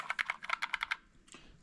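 Quick bursts of typing on a GK61 keyboard with yellow optical switches: about nine crisp, fairly loud key clacks in a fast run, then a short pause and one softer keystroke.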